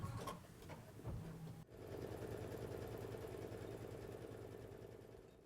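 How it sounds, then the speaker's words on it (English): An embroidery machine runs a placement stitch for a slipper, giving a steady, fast mechanical whirring hum that continues unbroken and close by after a brief clatter at the start. "we are running our first machine step, which will be the placement stitch"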